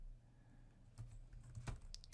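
Keystrokes on a computer keyboard, a few quiet, scattered clicks over a low background hum, faint and close with no talk.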